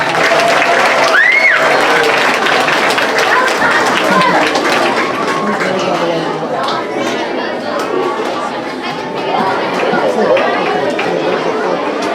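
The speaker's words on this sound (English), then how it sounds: "let's give them a round of applause as they exit the stage" A crowd at an elementary school award ceremony applauds steadily with cheering and chatter mixed in, a dense wash of clapping that holds for several seconds.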